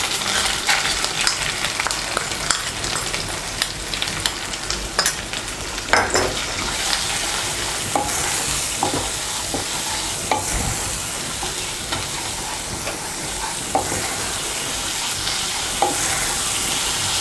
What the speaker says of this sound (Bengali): আদা বাটা আর গুঁড়ো মশলাগুলো ভালো করে মিশিয়ে নেব। মিশিয়ে নিয়ে হালকা একটু ভেজে নেব।